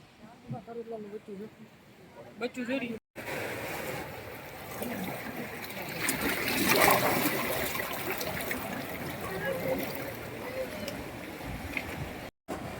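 Water rushes and splashes steadily at Gangeshwar Mahadev temple in Diu, flowing down to bathe the Shiva shrine, building to a fuller gush midway, with a person talking over the flow.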